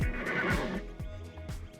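A horse neighs loudly and close by, one long whinny that trails off, followed by a couple of shorter snorting calls and faint hoof clops.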